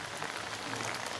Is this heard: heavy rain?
yes